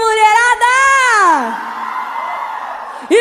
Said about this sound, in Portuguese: Cadê o grito da mulherada?